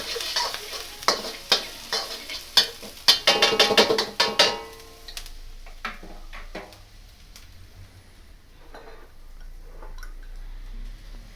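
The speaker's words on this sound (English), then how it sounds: "I'm gonna throw in my garlic and my ginger. Stir it up really quickly." Garlic and ginger stirred quickly in a pan over medium heat: a burst of sharp utensil clacks and scraping strokes over sizzling oil, then the clatter stops and a soft, steady frying hiss continues alone.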